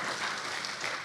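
Audience applause at a crab enthusiasts' convention Q&A, a brief dense wash of clapping from a crowd that holds steady and is heard alone.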